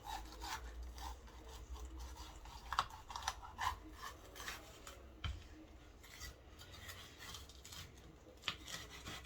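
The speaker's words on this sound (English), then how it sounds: "I'll show you a cool way to cut your peppers" A knife slicing into and around bell peppers to remove the core, giving soft scraping and rubbing cuts with a few sharper taps, close and quiet.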